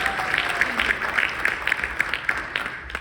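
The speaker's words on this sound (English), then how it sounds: "a huge round of applause" Audience applause at a neurotech conference session, a steady wash of many hands clapping for about three seconds, fairly loud and dense, with faint voices mixed into the crowd.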